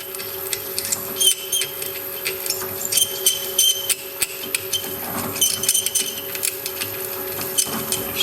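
Hand riveter setting stainless steel rivets during an exhaust install with four mufflers, a run of sharp metallic clicks and snaps in an irregular rhythm, close and moderately loud.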